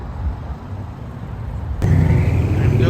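BMW cars arriving at a stance car meet in Mesa, a steady roadway rumble that swells suddenly into a louder, nearer engine and tire noise as a car rolls in.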